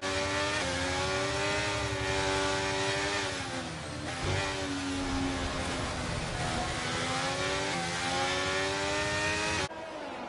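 Simulated Formula 1 race car engine in a racing video game at Suzuka's Japanese Grand Prix, a loud high-revving whine that rises and drops through repeated gear shifts, sustained close up throughout with a brief cut near the end.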